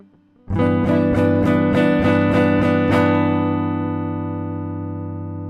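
A guitar strums a chord on the bottom four strings in several quick repeated strokes, then lets it ring out and slowly fade.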